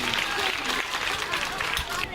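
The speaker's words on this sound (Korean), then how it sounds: "네, 박수 부탁드리겠습니다." Applause fills a Buddhist temple ceremony for Buddha's Birthday as a children's contest award is presented, a dense continuous patter of clapping from the audience throughout with voices mixed in.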